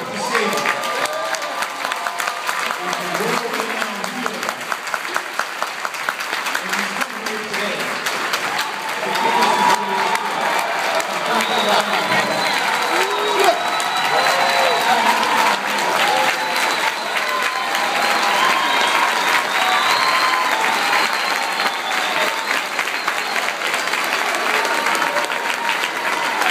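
A Brooklyn audience welcomes a speaker with sustained applause and cheering, a dense wash of clapping and crowd voices that keeps going steadily and grows a little louder partway through.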